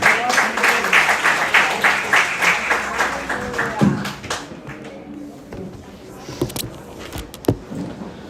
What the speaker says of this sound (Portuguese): Uma salva de palmas ao Senhor.